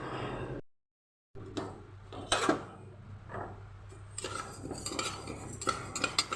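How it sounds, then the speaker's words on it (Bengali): Mung dal dry-frying in a pan is stirred with a metal utensil, giving a few quiet scraping clinks against the pan with short gaps and a faint room hum. "প্রথমে ডালটাকে তো খুব ভালো করে ভাজতে হবে। যাক, ভাজি।"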